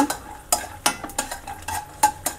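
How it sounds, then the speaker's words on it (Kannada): Chana dal fries and roasts in hot oil in a pan for South Indian raw mango chitranna, a soft sizzle broken by a series of sharp scraping stirs at an uneven rhythm, close, with no talking. "ಒಂದು 2 ನಿಮಿಷನಾದ್ರು ಚೆನ್ನಾಗಿ ಫ್ರೈ ಮಾಡಬೇಕು ಇದನ್ನು."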